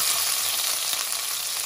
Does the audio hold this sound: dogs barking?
no